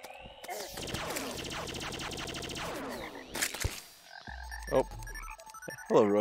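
Frogs croaking in the game Terraria, a dense chorus of rapid ribbity croaks that fills the first few seconds, then gives way to sharp in-game hits and clanks.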